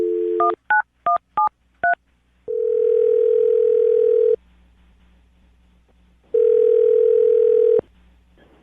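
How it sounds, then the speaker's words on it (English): A telephone is dialed, giving a quick series of touch-tone beeps followed by two long, steady ringback tones separated by a pause, clear and close with no talk. "I'm going to dial the phone number right now."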